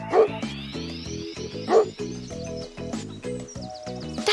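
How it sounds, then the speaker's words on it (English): A cartoon dog barks in a few short, yappy bursts over bouncy background music in a children's animal show. "Dogs like bones."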